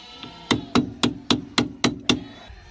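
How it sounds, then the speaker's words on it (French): Seven evenly spaced metallic hammer blows knocking a cover block off a Ford Transit brake hub, each sharp strike ringing with a short resonant tail, close and loud with no talking. "on fait sauter hop, ce bloc là qui cache un écrou derrière"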